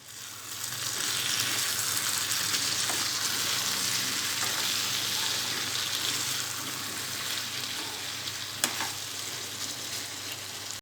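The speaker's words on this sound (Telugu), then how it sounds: "ఈ మునక్కాడ ముక్కలు టమాటో ముక్కల్లో 5 నిమిషాల పాటు ఉడకనివ్వాలి" Drumstick pieces simmer with tomato pieces in a pan for a gutti vankaya curry, giving a steady, moderately loud sizzle and bubbling that runs continuously with one brief sharper tick near the end.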